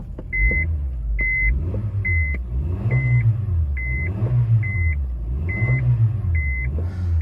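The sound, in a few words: Honda Fit engine revving in reverse, CVT not driving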